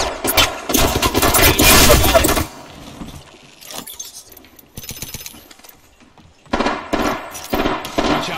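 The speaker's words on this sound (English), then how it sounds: "Being shot." Gunfire in the Apex Legends video game comes as rapid bursts of automatic shots, loud and close, with a long barrage at the start followed by shorter scattered volleys.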